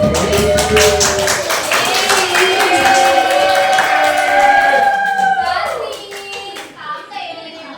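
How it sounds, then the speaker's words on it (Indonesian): A class of students applauds a classmate in an Indonesian-language drama lesson, brisk hand claps mixed with children's excited voices, loud and close, then trailing off near the end. "Tepuk tangan untuk Darnis."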